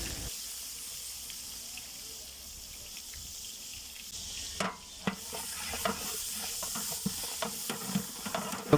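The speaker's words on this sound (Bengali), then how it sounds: "এবার আমরা মুরগি ভাজার গরম তেলের সাথেই পেঁয়াজ কুচি দিয়ে দিলাম।" Chopped onions drop into hot oil left from frying chicken for a chicken roast, giving a steady broadband sizzle with brief clatters and stirring knocks growing busier in the second half, close and moderately loud, without talk.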